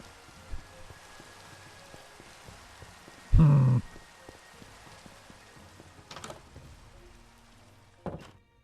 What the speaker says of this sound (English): Have fun in the rain.